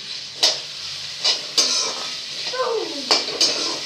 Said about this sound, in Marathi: याला छान असं परतून घ्यायचं